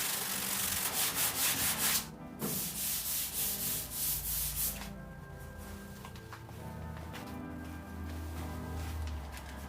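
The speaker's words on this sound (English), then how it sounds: "I'd rather block sand it because at least I have half a chance of getting it straight." A sanding block scrubs yellow paint off a truck bed in rhythmic back-and-forth strokes, close and steady, before the scraping turns to a softer, quieter rub.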